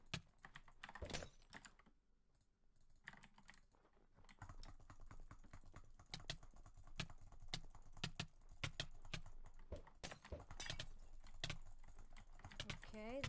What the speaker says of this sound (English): Let's just spam click a bit.